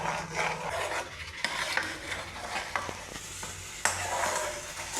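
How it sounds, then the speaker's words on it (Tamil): Thickening beetroot jelly is stirred steadily in a pan with a spoon, giving a continuous close scraping and sloshing with faint sizzling and occasional sharper knocks against the pan. "கைவிடாமல் இதே மாதிரி கிண்டிகிட்டே இருந்தீங்கன்னா நல்லா கெட்டியாயிடும்"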